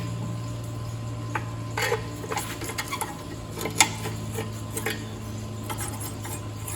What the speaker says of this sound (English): try to get our clamp off of here